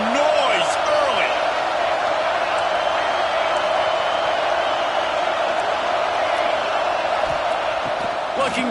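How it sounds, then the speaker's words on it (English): A football stadium crowd at a college game roars steadily throughout, a dense continuous wash of distant voices with scattered whistles and shouts rising above it. "This crowd bringing the energy and noise early."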